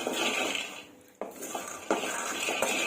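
Five tablespoons of peanuts frying over medium flame in a pan, giving a steady dense sizzle broken by a few sharp clinks and scrapes of a spoon stirring against the metal.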